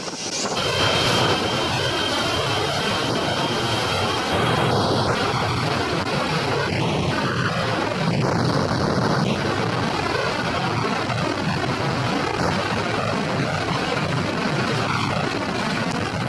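A loud, steady aircraft engine roar fills the whole stretch, a propeller plane with a student pilot taking off, droning continuously with wind-like broadband noise and no voices.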